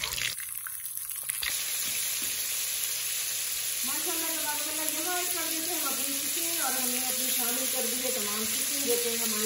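Steady, loud sizzling of 1 kg of chicken frying in oil for aloo gosht, continuous throughout, with a voice talking over it during the second half.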